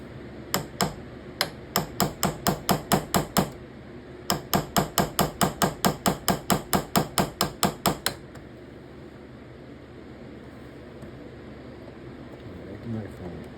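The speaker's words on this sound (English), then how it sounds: "Let's get our ball peen hammer." A ball peen hammer strikes a small steel punch set on a folding knife under repair, giving sharp metallic taps in quick, even bursts, a short run and then a longer series, before the workshop falls quiet.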